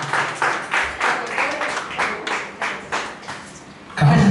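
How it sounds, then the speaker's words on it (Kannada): Audience applause for the artists at a Kannada cultural stage event, bursts of clapping rising and falling in several uneven waves with some voices mixed in, then a louder sound at the end. "ಜೋರಾದ ಚಪ್ಪಾಳೆ ಬರಬೇಕು ಎಲ್ಲ ಕಲಾವಿದರಿಗೆ"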